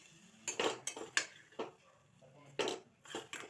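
A metal spoon stirring food in a pot, heard close up as a string of irregular clinks and scrapes against the vessel, about eight distinct knocks over a few seconds.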